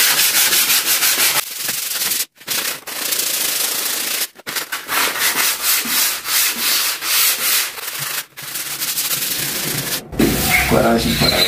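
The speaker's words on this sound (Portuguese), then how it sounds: "Vamos aqui começar a lixar por aqui." Sandpaper is rubbed by hand over a white-painted wooden door in loud, close, rhythmic strokes, paused by a few brief gaps, with speech briefly at the end.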